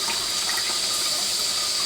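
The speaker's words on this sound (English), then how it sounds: "Now I'm going to quickly release the pressure under cold running water." Cold tap water runs over a hot pressure cooker in a kitchen sink, a steady, close, hissing rush of water that stays unchanged throughout.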